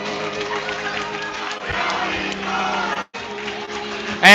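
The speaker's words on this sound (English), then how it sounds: "And now the crowd chants Joey Moore's name" A hockey crowd at a Shaker varsity game against Gilmour Academy chants a player's name, a loud rhythmic mass of voices in an echoing rink, briefly cutting out before resuming.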